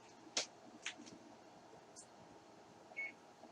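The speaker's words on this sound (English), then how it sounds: "Oh, there's my beeper." A timer beeper goes off during blueberry winemaking, giving a few short, faint, high beeps spread across a quiet room with a low steady background hum.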